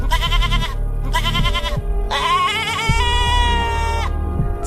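A goat bleats loudly and close by, about four calls in a row, with the third drawn out longest and the others shorter.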